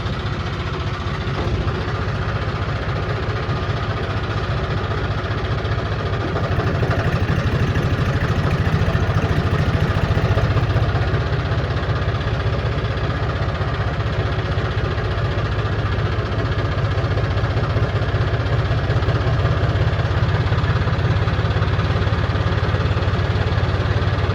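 A tractor with a trailer loaded with silt idles at night in hilly country, giving a steady, continuous low engine rumble close by that holds throughout without a break, with no voices.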